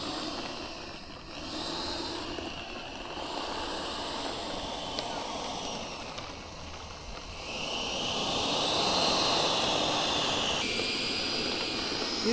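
An Arrows F-15 radio-controlled model jet with AS3X flies at a model airfield, its ducted-fan engine giving a steady whooshing jet roar that swells louder as it passes nearer, with a rising whine; faint voices sit underneath.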